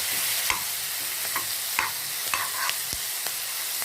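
Paneer gravy ingredients sautéed on a tawa, with a spatula scraping and tapping the pan in irregular strokes over a steady close sizzle of frying.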